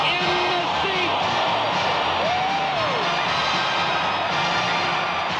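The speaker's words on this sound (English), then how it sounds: "This crowd is dancing in the seats." Football stadium crowd at a 1978 Atlanta Falcons game roars and cheers after a successful point-after kick, a dense, sustained wash of cheering and whoops with no break.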